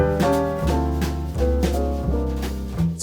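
A melody is played on piano. Chords and melody notes are evenly spaced with subtle shifting accents and a steady low bass underneath, and no voices are heard.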